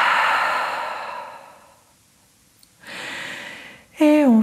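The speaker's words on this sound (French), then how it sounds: "Et ouvre la bouche, expire." A long, breathy open-mouth exhale during a lying yoga relaxation, loud and close, fading out. A pause follows, then a second airy breath, and then a brief voiced sound at the end.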